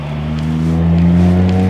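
Car engine fitted with a large double silencer exhaust, heard revving on a town street: a steady, deep droning rumble that swells slightly in loudness across under two seconds, close by with no talk.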